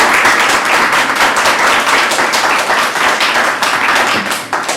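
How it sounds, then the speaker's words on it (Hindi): Audience at a Hindi literary workshop applauds to welcome guests, with close, loud, rapid clapping that holds steady for several seconds before tapering off. "तो आप लोग एक बार सब लोग तालियों की गड़गड़ाहट से स्वागत करें।"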